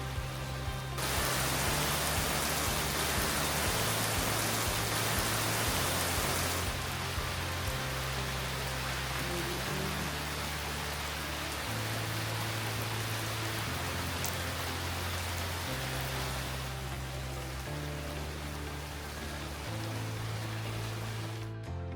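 Steady rain falls throughout an outdoor walk through the town of Walferdange, Luxembourg, a dense even patter that stays loud and continuous, with a low droning hum underneath and no talking.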